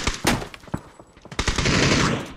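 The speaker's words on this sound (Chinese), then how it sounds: "一把枪在响吗？" Video game gunfire rattles in rapid bursts, sharp automatic shots in irregular clusters followed by a longer continuous volley, fairly close and loud.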